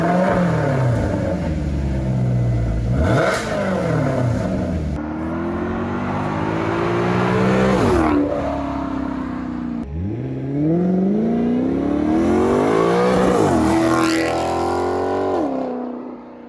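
A Maserati GranTurismo V8 fitted with an Urutu X-pipe exhaust, in normal mode, revs repeatedly: three rising engine sweeps that climb to a raspy wail and drop back, loud and close.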